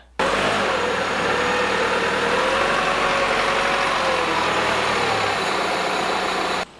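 A car engine runs at steady revs, loud and close, while the car drives up onto homemade wooden ramps. The engine note rises slightly partway through, then cuts off at the end.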